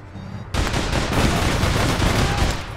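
Rapid automatic gunfire erupts in the online shooter APB Reloaded, a loud continuous burst of overlapping shots following a quieter moment, dense and close throughout.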